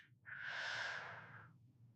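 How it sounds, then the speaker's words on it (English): A single deep inhale drawn through the nose, close and clear, rising over about a second and a quarter during a calming yoga routine, with no talking. "Take a big inhale in through the nose."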